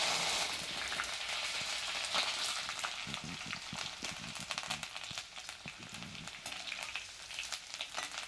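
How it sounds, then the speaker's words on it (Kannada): Crushed garlic and curry leaves frying in a pan for a bitter gourd curry, a steady crackling sizzle with brief louder spits and stirring, close by with no talk. "ಈಗ ಜಜ್ಜಿರೋ ಬೆಳ್ಳುಳ್ಳಿ, ಕರಿಬೇವಿನ ಸೊಪ್ಪನ್ನು ಹಾಕಬೇಕು."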